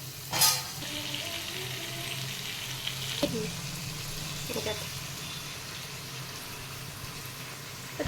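Tomatoes and green chillies sautéing in a pan for mutton biryani with basmati rice, a soft steady sizzle with a couple of brief stirring clatters, fairly quiet throughout.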